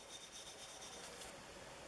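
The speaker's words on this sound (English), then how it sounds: "I'm going to follow that up with some 4/0 steel wool." Fine 4/0 steel wool rubs over a Stanley No. 60 low angle block plane, a soft, faint, continuous scratchy hiss close by with no talking.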